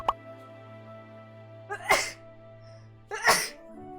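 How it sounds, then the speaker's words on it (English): Two sharp, loud sneezes land about a second and a half apart, each a breathy burst over steady soft background music. "I have to sneeze so bad."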